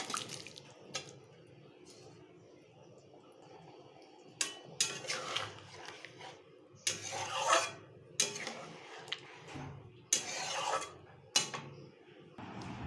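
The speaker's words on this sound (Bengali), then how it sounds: "এবার আমি ভেজে রাখা আলু আর ডিমগুলোকে দিয়ে দেব" Fried potatoes and eggs tipped into a pan of egg curry, bursts of wet scraping, clinking and sizzling splashes coming in irregular clusters over a low steady background, fairly close, no talking.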